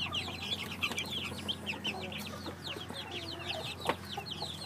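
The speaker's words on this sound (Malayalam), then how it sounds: "കോഴിക്കുഞ്ഞുങ്ങളെ ഒന്ന് കാണാം" Native country chicken chicks set out for sale cluck and peep continuously in a dense, overlapping chorus, close and lively, with occasional louder cheeps.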